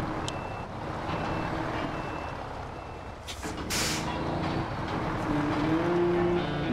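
A truck's reversing alarm beeps steadily in the snowy Alaska setting of the SnowRunner driving game, with engine rumble and a short hiss of air brakes partway through, close and moderately loud.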